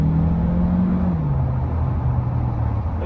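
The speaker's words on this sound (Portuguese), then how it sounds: "Ó, se acelerou um pouquinho," Engine of a 2022/2023 Chery Tiggo 7 Pro with the 1.6 TGDI turbo petrol, heard from inside the cabin in city driving as a steady, loud droning hum whose pitch shifts slightly while the SUV pulls ahead.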